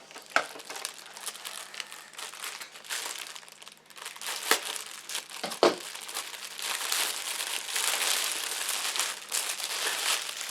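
Close, crackly crinkling of stiff 5-inch deco mesh being handled, with irregular sharp rustles and crunches that grow denser and louder toward the end.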